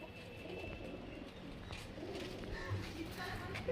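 High-flying Giribaz pigeons at a loft give soft cooing calls over steady outdoor background noise, with faint voices nearby.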